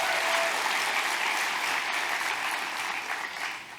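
An auditorium audience of women claps steadily at a keynote gathering, a dense, even wash of applause that holds at a strong level for several seconds before thinning slightly at the end.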